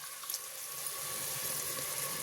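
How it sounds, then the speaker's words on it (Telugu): Water runs steadily from a tap into a mixer jar, a soft continuous pour with faint splashing, no voices. "ఆ జార్ కడుక్కునేసి కొద్దిగా వాటర్ వేసుకుందామండి"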